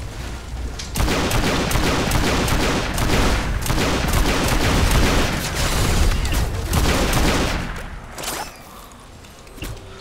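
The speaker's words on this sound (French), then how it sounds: "j'utilise le pistolet qui tire en rafale" A video game pistol fires in bursts, with dense rapid shots and booming gunfire packed together for several seconds before tapering off.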